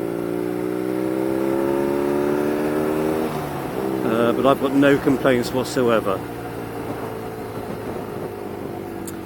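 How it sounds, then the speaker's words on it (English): A BMW R nineT air-cooled boxer motorcycle engine hums steadily, then revs in a few quick throttle blips before settling back, with someone talking over it. "I just find it a very smooth engine for an old sort of air-cooled boxer"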